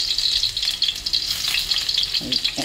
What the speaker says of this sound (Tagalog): unahin muna natin ang bawang